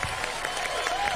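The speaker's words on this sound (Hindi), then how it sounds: "तालियां बजाएं आप लोग अपने लिए" A studio audience at a Pakistani TV game show gives a brief, dense wash of steady applause with no clear gaps.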